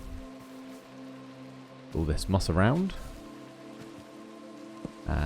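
Rain in the Minecraft video game falls as a steady soft patter throughout, with someone talking over it in the middle and a few small game clicks.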